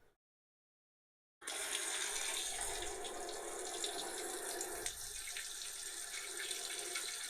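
Cold tap water runs steadily from a faucet into a sink, starting abruptly after a short silence and continuing as a close, constant splashing rush with no talk.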